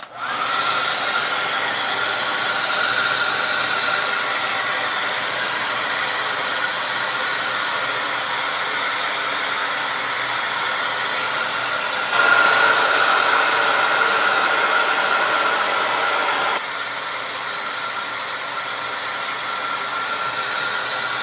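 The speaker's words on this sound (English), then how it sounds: "we're gonna go in with the hairdryer again and get this completely dried" A hair dryer blows steadily and loudly for the whole stretch, drying acrylic paint, a constant rushing whir that shifts slightly in pitch partway through.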